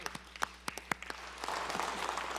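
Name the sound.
applause in council chamber for visiting youths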